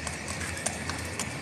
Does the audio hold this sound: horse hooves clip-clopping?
yes